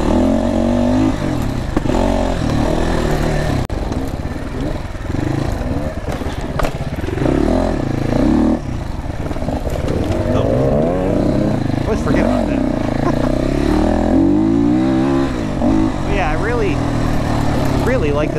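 A GPX dirt bike, an FSE300r or TSE250r trail bike, runs close by on a trail, its engine rising and falling through repeated revs with some clatter, while someone talks over it for most of the time.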